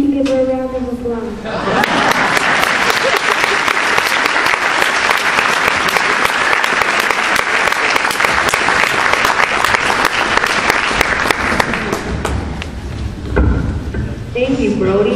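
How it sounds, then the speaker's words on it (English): An audience at the Shell Lake Arts Center breaks into a loud, sustained round of applause lasting about ten seconds, dense and close. A voice is heard just before it starts and again as it fades. "We should give her a round of applause."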